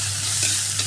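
Onions frying in hot oil with salt for a soya roast, a steady close sizzle with stirring, brief and alone without any voices.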